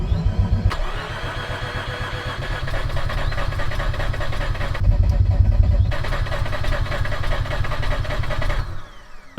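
A Mazda RX8 with a fuel leak and old fuel cranks hard, trying to start, in a loud, steady rhythmic churn that surges briefly and almost catches before falling back, with no talking.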